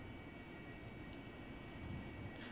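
AV-8B Harrier jet engine in the DCS flight simulator, a steady broad roar with a whining tone, rising slightly in level as throttle increases during taxi, with no talking.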